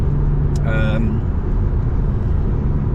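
A car cruising at about 65 mph on the M1 motorway, heard from inside the cabin as a steady, loud low rumble of road and engine noise, with a short vocal sound near the start.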